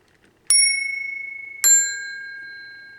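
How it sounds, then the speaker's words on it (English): Two sharp metallic strikes of a telephone bell, each ringing out with bright sustained tones that slowly decay, the second hit about a second after the first, clear and alone. "you can definitely tell there's bells of two sounds"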